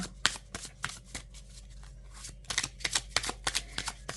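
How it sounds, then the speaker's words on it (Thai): A deck of tarot cards is shuffled by hand in a series of crisp, fast riffling bursts with brief pauses between them, close and fairly loud, heard alone. "สับไพ่ตรงนี้เลยนะคะ"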